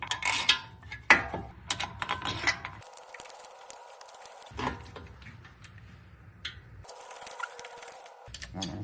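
A brake caliper bolt being tightened by hand on a 2018 Alfa Romeo Stelvio during a front pad and rotor job, heard as a series of close mechanical ratcheting clicks and metallic taps in uneven bursts with short quiet gaps.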